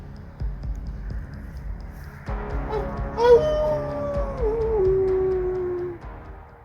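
After some rustling, a person outdoors at Nitschke Mounds, Wisconsin, lets out a drawn-out wolf-like howl, rising then slowly falling and fading, imitating a wolf.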